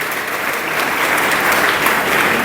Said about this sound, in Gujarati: જોરદાર તાળીઓથી આપણે તેમને સન્માનિત કરીએ.